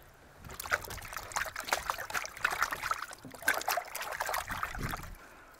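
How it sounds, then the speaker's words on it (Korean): Seawater splashes and sloshes in irregular bursts as cleaned flounder are washed by hand at an island harbor in Tongyeong, close and moderately loud, with no talking. "김도출 씨가 바닷물을 떠서 손질한 도다리를 씻는다."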